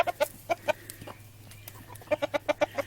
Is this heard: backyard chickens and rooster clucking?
yes